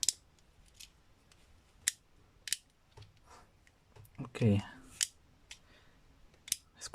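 Sharp plastic clicks from a Beyblade B-191 Over Drive top being twisted together, several separate loud snaps spread irregularly, with a short spoken word and handling noises in between.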